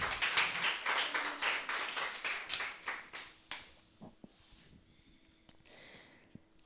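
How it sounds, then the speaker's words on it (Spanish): Church congregation clapping during a Spanish-language sermon, a run of rhythmic, fairly even claps that thins out and fades to scattered taps and small sounds after a few seconds. "Denle una fuerte ofrenda de palmas al Señor, hermano."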